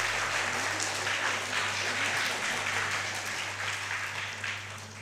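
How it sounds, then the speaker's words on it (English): A steady, dense round of applause from an audience at a book release event fills the room throughout, even and unbroken, with no voices over it. "So shall we hear a bigger round of applause?"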